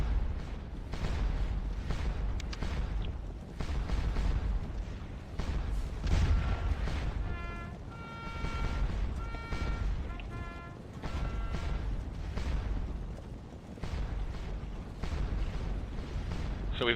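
Napoleonic cannons in Scourge of War: Waterloo boom steadily at the Battle of Wavre, with deep, rolling artillery reports repeating over a constant battlefield rumble while someone talks.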